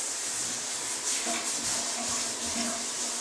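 Warm shower water runs steadily over a dog during a bath, a continuous close hiss of spray with faint rubbing underneath and no talking.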